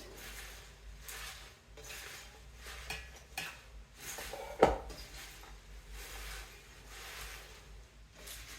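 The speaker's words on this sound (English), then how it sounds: "first I want to mix my veggie first" Kale and vegetables tossed by hand in a bowl, soft intermittent rustling and rubbing with light clinks of the bowl and one sharper knock midway, fairly quiet and close.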